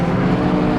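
A Porsche Cayman GT4 RS mid-engine sports car screams at high revs toward 9,000 rpm, a loud, sustained, dense engine roar heard up close with no pause.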